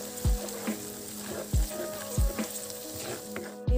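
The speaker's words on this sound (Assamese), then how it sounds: "মছলাখিনি অলপ ভাজি" Spices sizzling and frying in a pan for a mushroom dish, with a steady bright hiss broken by several sharp low knocks as a spoon stirs and scrapes at roughly regular intervals, close and moderately loud, no talking.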